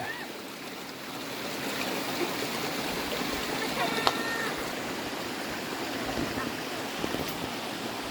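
Steady broadband rush of the Chanta Then waterfall in Chonburi, a constant close roar of falling water through the whole stretch with little variation.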